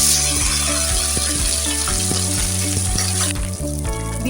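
Masala and rice frying in melted ghee for a Basant Panchami fried rice, a steady loud close sizzle with rhythmic scraping and clanking of a spoon stirring the pan throughout.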